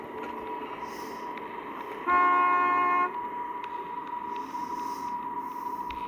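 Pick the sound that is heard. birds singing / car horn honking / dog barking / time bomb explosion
car horn honking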